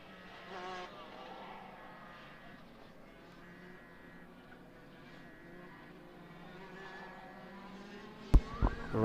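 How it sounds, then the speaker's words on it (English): Clubman's Regional Saloon race cars circulate a track at Killarney, engines whining at a distance and rising and falling as they pass, ending with a sharp closer thump. "The cars are out on track, busy making their way around."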